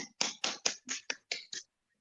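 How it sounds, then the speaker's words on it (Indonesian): Seven distinct hand claps ring out one after another in an even rhythm, close and clear against silence, marking thanks to a student group after a classroom presentation. "tepuk tangan"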